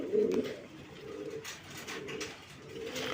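A male pigeon for sale at a pigeon market coos in a few soft, rolling phrases, close by with no one speaking.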